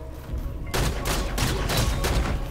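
Rapid gunfire in the action-platformer Foregone: a quiet start, then loud repeated bursts of shots in close succession, each crack followed by short booming decays.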